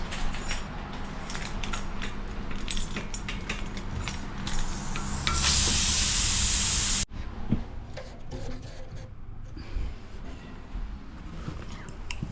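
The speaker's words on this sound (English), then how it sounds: "bleed the radiator" Air hissing out of a home heating radiator as it is bled, a loud steady rush of several seconds that cuts off abruptly, amid quieter handling noises before and after.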